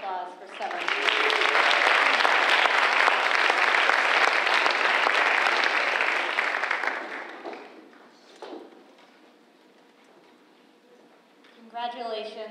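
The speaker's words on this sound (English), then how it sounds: "One last round of applause for 7." Audience applause at a school graduation culminating ceremony, loud and sustained for about seven seconds, then fading into quieter room sound with a brief voice before a short burst of renewed clapping at the end.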